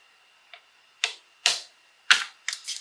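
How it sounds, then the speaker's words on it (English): A rubber stamp is pressed onto card stock with a stamping tool during card making, giving five sharp dry taps at uneven intervals, close and crisp against near silence. "I'm going to stamp it again just to make those lines more vibrant"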